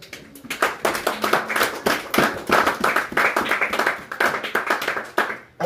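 A church congregation claps along in a quick, steady rhythm during a French-language worship service, the clapping close and continuous for several seconds.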